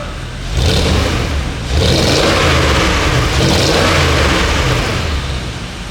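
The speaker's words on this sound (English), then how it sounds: "Give it some revs now that it's out of cat heating." A Porsche 958 Cayenne Turbo with its secondary catalytic converters deleted revs hard twice, a short throttle blip followed by a longer sustained rev. The engine note is loud, close and raspy over a steady idle, with no talking.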